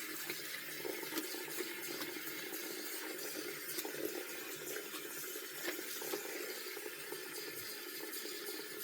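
Tap water running steadily into a basin while crochet items are handwashed, a continuous hissing splash that stays even and fairly quiet throughout, with no talking.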